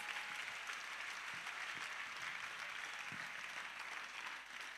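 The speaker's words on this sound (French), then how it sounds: "Clap for Jesus Christ." A church congregation claps for Jesus Christ, a dense, continuous wash of many hands applauding, fairly faint and distant.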